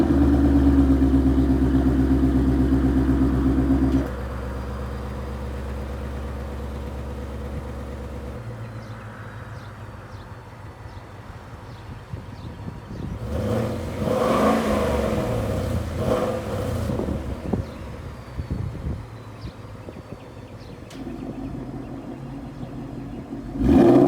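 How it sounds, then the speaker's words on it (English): A 2019 Ford Mustang GT V8 with a Corsa Extreme catback active exhaust idles with a deep, steady drone, then settles lower before a run of loud revs swells, drops back and rises again. "I'll leave you with some clips that are cold starts and just some revs in quiet and track mode"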